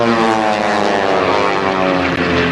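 A propeller aerobatic aircraft flying a knife-edge pass at a 1986 Daytona Beach airshow, its engine a loud, steady droning roar that holds throughout.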